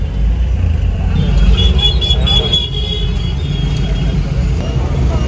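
A car drives along a busy road in traffic with a low, continuous engine and road rumble and a brief horn toot, while people talk over it.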